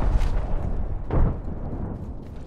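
A frag grenade going off in the video game Apex Legends: a single loud, booming blast with a short decaying rumble, set against ongoing low battle noise.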